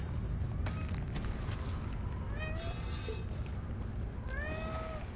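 A house cat meows twice, a few seconds apart. Both calls are short and fairly faint over a low, steady background rumble.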